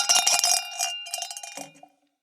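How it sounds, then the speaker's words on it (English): A hand bell rung quickly several times, bright metallic clangs close by, then fading to silence within about two seconds. "Oh, wait, I have my bell."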